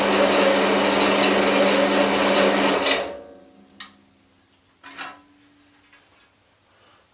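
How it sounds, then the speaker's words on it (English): A 6x4 metal cutting bandsaw with a freshly fitted blade runs for about three seconds with a loud steady mechanical whir, then shuts off, leaving a few faint knocks and clicks as it coasts down. "we're going to close the safety cover and run it just for a few seconds to make sure it's fully seated on the wheels"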